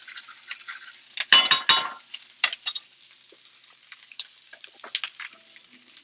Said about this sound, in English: Give it a quick little stir.